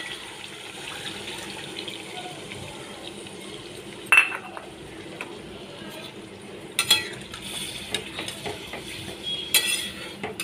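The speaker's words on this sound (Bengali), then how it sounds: "এবার আমি মশলার যে জলটা ছিল সেটা দিয়ে দিচ্ছি।" Spiced water poured into a cooking pan of hilsa (Ilish) curry with black mustard paste and shola kochu, a quiet, steady liquid trickle with faint clinks of utensils against the pan, no voices.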